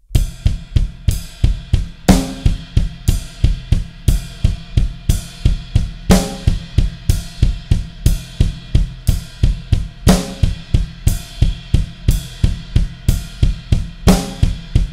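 Double bass drum pedal playing steady triplets on the kick drum, a fast, even stream of loud, close thumps with cymbal crashes accenting every few seconds.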